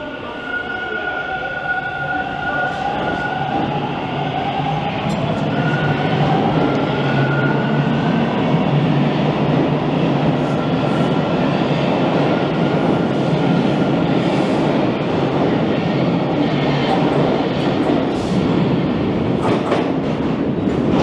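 A Toronto TTC Line 2 subway train rolls into Kipling Station with a loud, steady rumble and rattling wheels, brakes squealing faintly over the roar.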